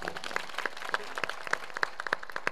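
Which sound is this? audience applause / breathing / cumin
audience applause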